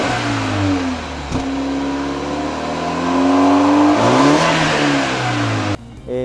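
A new BMW G22 420i engine idles and revs through its dual-exit exhaust, rising and falling in pitch twice before cutting off abruptly near the end.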